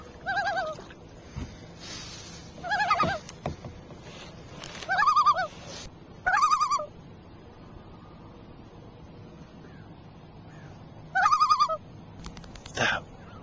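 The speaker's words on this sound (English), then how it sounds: "My favorite is to hear the loons." Loons on Six Mile Lake call across the water in several separate wavering, honking bursts spaced a few seconds apart, clear and moderately distant over quiet surroundings.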